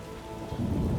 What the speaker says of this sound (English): It rains a lot in here.